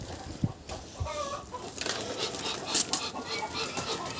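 A broody hen that has just eaten gives a few soft, short clucks near a barn, close by and fairly quiet, mixed with light rustling and scattered background noise.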